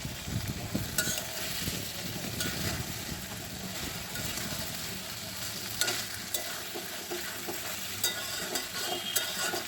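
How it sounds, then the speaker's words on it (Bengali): Taki fish sizzles steadily in hot oil with spices in a pan as it is stirred and cooked down, a close, continuous frying hiss broken by occasional scrapes and clinks, with no talking. "মাছটা আমি এভাবে বেশ কিছুক্ষণ ধরে কষিয়ে নেব"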